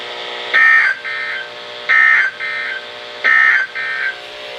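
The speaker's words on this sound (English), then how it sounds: "This station will broadcast severe weather alarm tone" NOAA Weather Radio severe weather alarm tone from station KZZ57 in Rockford: three pairs of loud, clean electronic tones, each a longer higher note followed by a shorter lower one, repeating in a steady rhythm with no voice.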